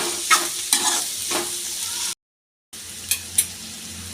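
Pre-fried egg and chicken pieces for restaurant-style chicken fried rice stir-fry in a pan, with a steady loud sizzle and sharp scraping strokes of a spatula, broken by a brief silent gap before the frying resumes.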